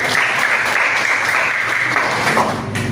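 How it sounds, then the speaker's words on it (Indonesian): Students in a classroom clap together for a classmate, a brisk continuous burst of applause, close and fairly loud, fading slightly at the end. "Betul sekali, tepuk tangan untuk Bram."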